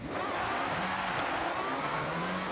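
A 2003 Aston Martin DB7 GT in Forza Horizon holds a steady, loud, high-revving engine note close up, with no pauses and no voices.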